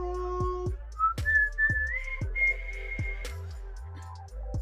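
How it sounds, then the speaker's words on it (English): A person whistling a short tune nearby, a series of clear sustained and sliding tones with a few rhythmic thumps beneath, and no speech. "it's a poor whistle that was"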